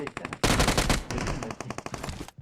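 Automatic gunfire from the PUBG Mobile mobile game, a dense loud burst of rapid shots after a few lighter pops, with a brief voice in the background.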